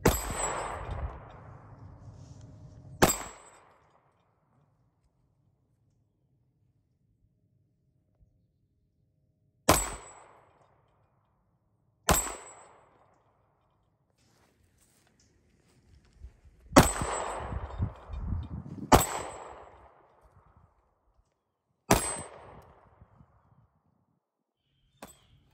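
Sig P365 X pistol fired on a range, seven sharp, loud shots spaced irregularly over about twenty-five seconds, each cracking close and decaying quickly, with quiet gaps between.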